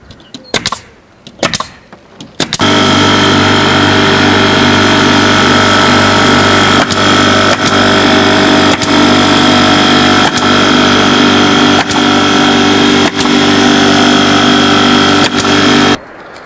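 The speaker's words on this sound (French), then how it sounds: "on va voir que je vais pouvoir clouer assez rapidement puisque j'ai juste appuyé" A Bosch GTK40 pneumatic stapler driving fasteners into a roof, sharp shots spaced about a second apart over a loud, continuous droning hum, after a few scattered knocks at the start.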